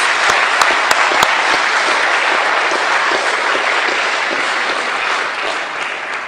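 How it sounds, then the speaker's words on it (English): An audience gives a loud, sustained round of applause, thick continuous clapping with a few sharp individual claps standing out at the start, easing only slightly toward the end. "Yeah, give them a round of applause."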